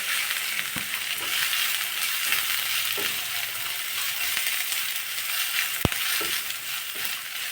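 Finely chopped onions sautéing in a pan for a dosa-batter dish, a steady broadband sizzle with a few soft spatula clinks and scrapes, close and continuous throughout.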